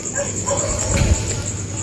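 Street dogs barking at night in a residential lane, the yips and barks distant and fairly soft over a steady hum of background noise.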